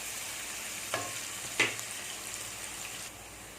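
Onions sautéing in ghee give a soft, steady sizzle at low level, with two brief utensil knocks against the pan near the start.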